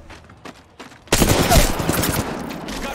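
A burst of rapid gunfire in the battle royale game Apex Legends erupts after a second of quiet, loud and dense and continuing to the end.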